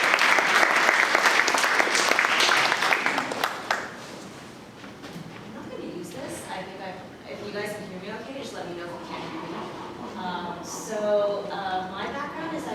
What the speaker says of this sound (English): So without further ado, Jenny, please give her a big applause.